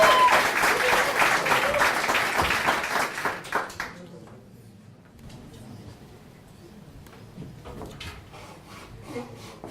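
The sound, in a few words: applause from audience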